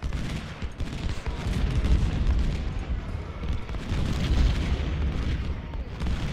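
Cannon and musket fire rumble through a Civil War battle at Potomac Fort in the video game Ultimate General: Civil War, a dense, continuous wash of distant booms and crackling volleys with no voices over it.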